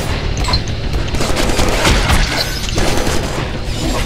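Gunfire from a gun set to perforate in a Deadpool and Cable game: dense, loud bursts of booming shots and crashing impacts pile up continuously, close and harsh, with no pause.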